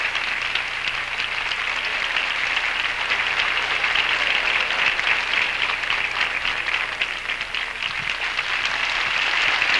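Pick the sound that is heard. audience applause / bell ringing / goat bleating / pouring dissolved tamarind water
audience applause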